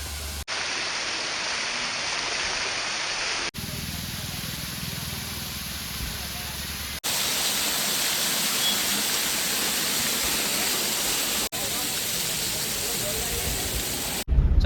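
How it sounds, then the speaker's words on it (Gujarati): A roadside waterfall on the road from Saputara to Ahwa roars as a dense, continuous rush of falling water. The clip is cut into several segments with abrupt jumps in level, and no voices are heard. "સાપુતારાથી આહવા જતા રસ્તામાં એક મસ્ત ધોધ આવ્યો છે"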